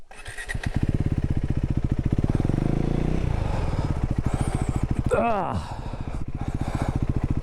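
A KTM motorcycle engine revs hard and steadily while riding through deep water, loud and close throughout, with a brief rising whine midway.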